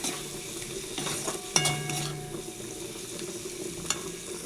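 Spices with red chili powder and salt fry quietly in a pan, a soft steady sizzle broken by the scrape of a stirring spoon and a sharp clink against the pan.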